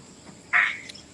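A single short, loud frog croak rings out from quiet background, then fades into faint insect-like noise.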